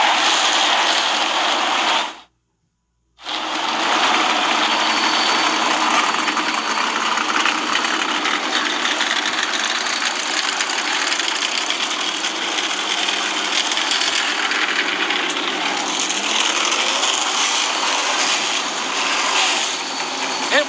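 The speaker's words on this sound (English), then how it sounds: "start your engines." NASCAR stock cars fire up and idle together for a night race, a dense, loud, steady engine roar that cuts out briefly near the start, then rumbles on unbroken.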